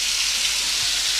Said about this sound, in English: sometimes when there is fat present in the meat, it starts spurting. So be very careful when you're frying.